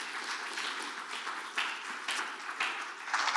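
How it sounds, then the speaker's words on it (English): Applause for an associate pastor at a church sermon service, sounding as a fairly faint, steady patter of clapping from the congregation with a few louder swells. "So big round of applause for her"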